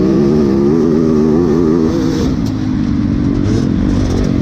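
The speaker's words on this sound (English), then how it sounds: "I'm coming out around the outside full throttle." A motocross motorcycle screams at full throttle during a SORCS 2018 race, its engine loud, close and continuous with a slight dip in pitch partway through.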